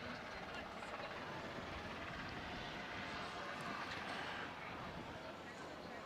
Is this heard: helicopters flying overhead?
yes